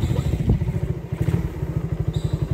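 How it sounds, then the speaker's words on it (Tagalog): A motorcycle engine putters at a steady, rapid thumping pulse, close and fairly loud, with no talk over it. "Ang ingay ng motor mo, matutulog na yung mga tao dito."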